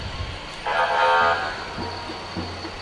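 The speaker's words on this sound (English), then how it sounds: "And there's the Pumpkin Center fire truck." Fire truck horn sounding during a Veterans Day parade, one sustained blast in the middle of the clip over outdoor crowd ambience, then a few short low honks.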